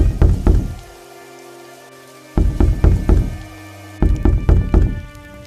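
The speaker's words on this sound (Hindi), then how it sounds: "और मंगतू के घर का दरवाजा खटखटाते हैं।" Three bursts of rapid knocking on a house door at night, each a quick series of loud, close raps separated by short pauses, with faint heavy rain underneath.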